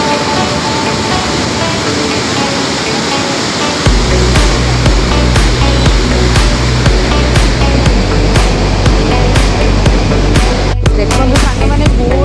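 Floodwater of the swollen Mahanadi river rushes past in a loud, continuous roar, a steady broadband torrent with a deeper churning rumble building partway through and occasional splashes, no voices.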